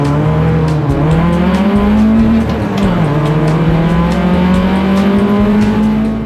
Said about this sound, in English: Sadly, I got a bit of wheel spin and I had a bad start.